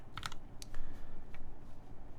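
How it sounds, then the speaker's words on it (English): Close typing on a mechanical keyboard with a deep-sounding spacebar, with several bright clicky keystrokes in quick bursts over a low, busy thudding background, no voices. "the spacebar sounds very deep"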